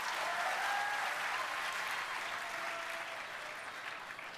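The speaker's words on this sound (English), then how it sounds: "Justice is always worth clapping for." An audience at a youth conference plenary session claps for a speaker, a dense, even wash of applause that holds steady and eases slightly toward the end.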